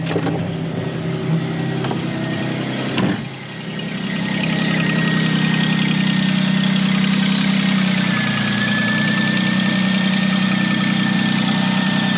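A 3.8 car engine with an exhaust manifold leak starts up after a battery change. It settles into a steady, loud idle heard up close, with a brief stumble and dip partway through.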